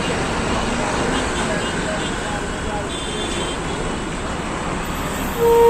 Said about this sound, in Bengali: ব্রিজের উপরে তো জ্যাম থাকার কথা না, কিন্তু ব্রিজের উপরে জ্যাম থাকে